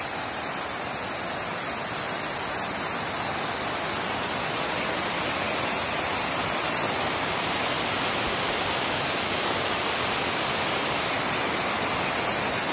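Water gushing from a salty spring in a desert mountain: a dense, constant roar of rushing water, loud and unbroken from start to finish.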